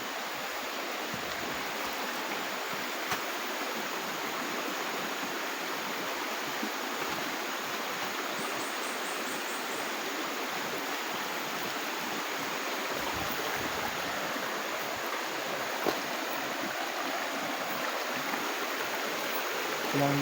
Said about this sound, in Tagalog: ng sapa yung dinadaanan namin